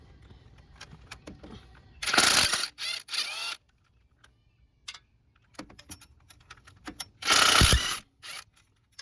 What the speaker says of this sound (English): I'm using a 14 mil deep socket with a swivel head